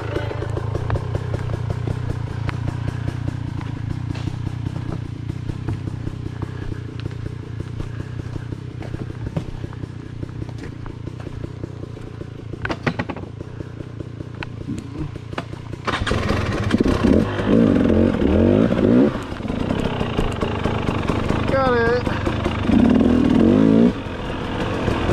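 A 250 dirt bike on an uphill off-road climb, its engine droning steadily and then revving harder and louder under held throttle, with voices talking over the engine noise.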